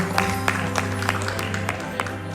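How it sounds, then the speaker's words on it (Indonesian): A church congregation claps during a Sunday worship service, with distinct, fairly regular claps standing out over a sustained low organ or keyboard drone and a soft room murmur. "Berikan tepuk tangan sekali lagi bagi Allah kita."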